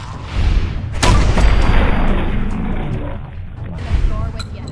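Gunfire in the video game Fallout 4, a sharp loud shot followed by rumbling blasts and a second burst near the end, mixed with a shouting voice.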